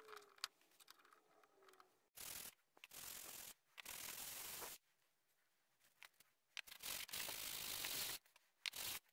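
Metal mating surfaces on a KS600 rear drive are block sanded by hand, giving bursts of harsh rasping strokes separated by quiet pauses, close and fairly loud, with no voices.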